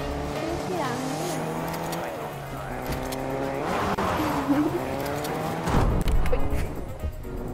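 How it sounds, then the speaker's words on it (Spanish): A car engine revs and drones in a PvP video game, with shifting pitch, tire squeals and skids rising near the end, heard under overlapping voices talking. "Escucho un coche. ¿Alguien se hace un coche?"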